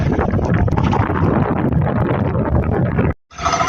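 Loud, continuous roaring wind buffets the microphone outdoors at sea on a crab-trapping boat, with a brief cutout before the gusting resumes.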